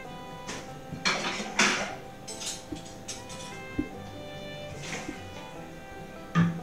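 Dishes, pots and vessels clatter at a home kitchen sink, with repeated clinks and knocks of crockery and cutlery coming at an uneven rhythm, moderately close and fairly loud.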